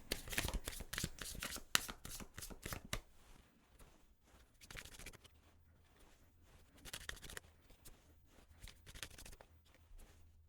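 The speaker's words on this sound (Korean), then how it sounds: "카드 한번 뽑아볼게요." Tarot cards being shuffled and drawn, with bursts of rapid riffling flutter at the start, then quieter sliding and scattered card snaps and taps, close and alone.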